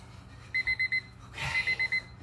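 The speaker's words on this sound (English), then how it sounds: "On the beeps." An electronic workout timer sounds during a footwork exercise session: four short, evenly spaced high beeps, a brief thump and rustle, then four more identical beeps, clear and close.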